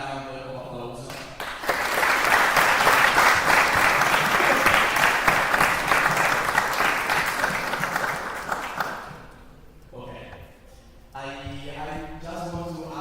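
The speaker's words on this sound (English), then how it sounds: "So let's give them a round of applause." At an opening ceremony, an audience breaks into sustained applause, loud and even for several seconds before fading, with a voice speaking briefly before and after it.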